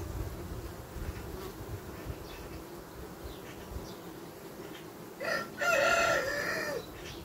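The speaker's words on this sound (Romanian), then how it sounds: "Iată, aici avem o albinuță cu polen." A steady buzzing hum of honeybees at a hive fills the air throughout, with a brief louder burst of higher-pitched buzzing near the end as one flies close.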